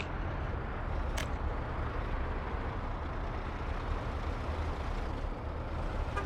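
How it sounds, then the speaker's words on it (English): Truck engine droning steadily in Workers & Resources: Soviet Republic, a gravel truck making repeated fast trips, a dense continuous rumble at constant level with a brief high hiss early on, no talking. "Then again, that could just be the gravel truck that's repeatedly making really fast trips."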